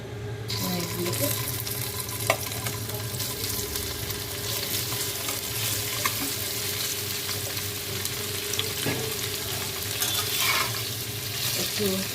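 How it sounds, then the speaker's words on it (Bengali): Paneer pieces frying in hot oil, an even crackling sizzle throughout with occasional light taps from a spatula. "তেলটা গরম হয়ে গেছে, এবার আমি তাতে পনিরগুলোকে"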